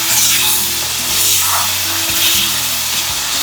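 Masala fries in oil for a coriander fish curry, a loud, close, continuous sizzle mixed with scraping and rubbing from stirring, with no speech.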